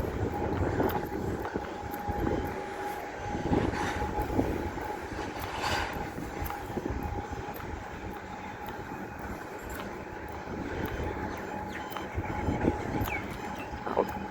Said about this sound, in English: here's this incoming train